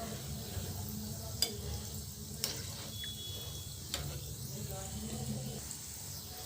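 Wheat flour gulab jamun frying on a low flame, a quiet, steady bubbling sizzle broken by a few faint clicks of a utensil, low in level throughout.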